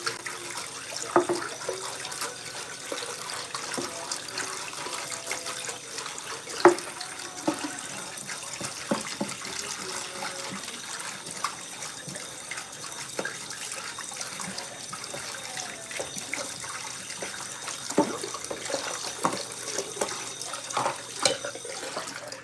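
Tap water runs steadily over a cooking pan being washed in a sink, a continuous splashing trickle with occasional clatters of the pan, heard close with no talking.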